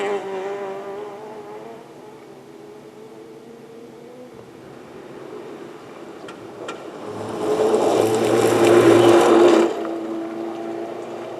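An Avenger rally car passes on a stage of the 2021 Lombard Rally at Brunton, its engine building from a distance to a loud close roar and then fading away.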